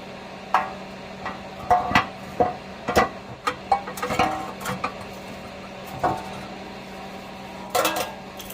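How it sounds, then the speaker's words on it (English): Metal clanks and scrapes as an engine oil pan with a new gasket is fitted beneath a Dodge Caravan, with scattered close knocks and rattles between stretches of quiet. "let's put the pan on now"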